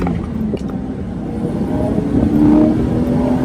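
A 2001 Porsche Boxster 986 drives and accelerates with the roof open, its engine a loud, close drone that climbs in pitch toward the end, with wind rush mixed in.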